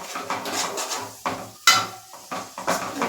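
Ginger paste being sautéed in a pan, a spoon scraping and clanking against the metal in repeated irregular strokes, close and moderately loud, with no one speaking.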